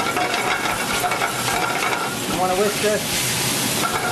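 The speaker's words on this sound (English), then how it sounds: "I want to whisk this" Pork belly jus with caramelized onions is whisked in a pan, a continuous brisk metallic whisking and sizzle close up, with a brief voice-like sound partway through.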